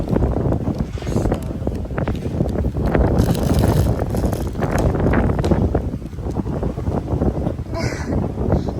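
Strong wind buffets the microphone outdoors on Koh Lanta, a loud, gusty, low rumble that rises and falls across the whole stretch.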